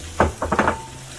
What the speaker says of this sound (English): I half boiled some Irish potatoes, and I'm gonna be adding this to my curry mix